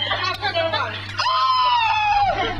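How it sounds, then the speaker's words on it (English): Hunters scream in terror at the top of their lungs in a story sound effect, a loud wailing shriek that rises and holds over a busy background of other voices. "screaming at the top of their lungs"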